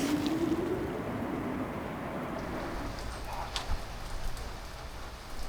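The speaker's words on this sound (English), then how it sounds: "So it's still raining." Steady rain patters down across a campsite, a continuous broadband hiss with occasional louder drips and a faint passing rumble, no voices.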